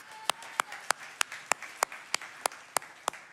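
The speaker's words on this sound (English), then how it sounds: "I think that's worth clapping for." A church congregation applauds, with sharp, evenly spaced claps that stand out clearly over a soft background murmur.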